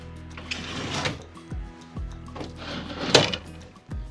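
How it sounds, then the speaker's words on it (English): A door slides and bangs shut with a few sharp thumps and a rattle, close by, amid quiet background noise. "let's close the door."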